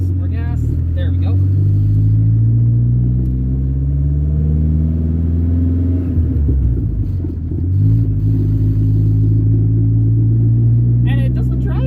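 A modified 1986 Shelby Omni making over 300 wheel horsepower accelerates from inside the cabin, its engine droning loud and low, the pitch climbing through gears with a dip at a shift, while someone talks over it.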